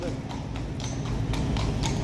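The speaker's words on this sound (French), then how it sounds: "On a les policiers à chevaux qui arrivent là-bas." Steady clip-clop of several mounted police horses' hooves on pavement, rhythmic and fairly close, under continuous nearby talk and street bustle.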